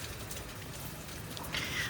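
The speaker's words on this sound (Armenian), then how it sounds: "վայելում ենք այս անձրևը" Rain falls steadily in California as a soft, continuous hiss and patter that thickens slightly toward the end, with no speech.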